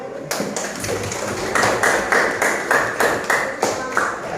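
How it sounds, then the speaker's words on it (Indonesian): Indoor class group of teacher trainees clapping, a series of sharp, evenly spaced claps with ringing echoes, about a dozen distinct strikes in a steady rhythm close by. "Tepuk tangan dulu."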